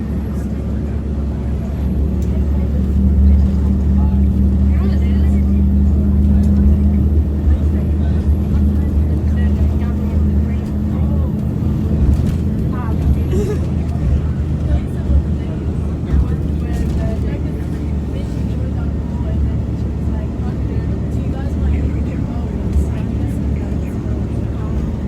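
Low, steady engine drone and rumble from inside a Sydney train replacement bus while riding, with a constant low hum throughout, road noise, and people talking over it.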